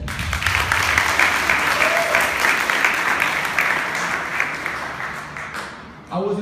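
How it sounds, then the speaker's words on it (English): Sustained, loud applause from an audience at a graduation ceremony in New York City, dense clapping holding steady for several seconds before tapering off near the end. "I want to give all you guys a round of applause."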